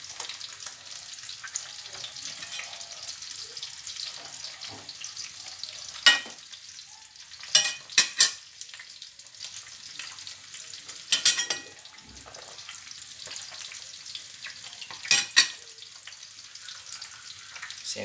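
Tomatoes fry in a pan with a steady, close hiss of sizzling oil, broken by a few sharp clatters and scrapes of stirring.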